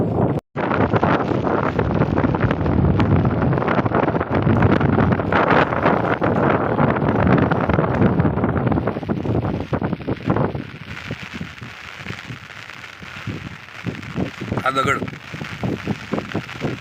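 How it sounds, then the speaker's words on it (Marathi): Strong wind buffets the microphone in a steady roar beside a lake in light rain, easing somewhat toward the end with faint rustling. "वारा जोरात आहे"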